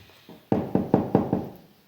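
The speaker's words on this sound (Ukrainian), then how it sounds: "Чуєте? Хтось стукає." Five quick, firm knocks land in a steady rhythm, close and clear, after a couple of faint taps, with no voices.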